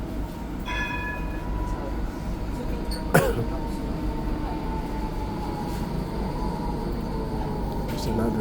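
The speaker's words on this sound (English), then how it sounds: "There's another train that comes in." Tram pulling into a station in Adelaide, a continuous low rumble of the rail car with a brief bright squeal or ding, under a busy ambient background.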